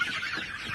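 Desi hens on a free-range poultry farm cluck and squawk together in a brief, busy burst of overlapping bird calls, moderately close and without talk.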